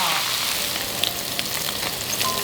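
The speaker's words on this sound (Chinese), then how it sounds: "肉的一面给它沾点粉，然后给它下锅炸一下，炸锅了" Floured black mantis shrimp deep-frying in plenty of hot oil in a wok, giving a dense, continuous close sizzle with scattered small pops and crackles.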